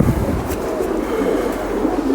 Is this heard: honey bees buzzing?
no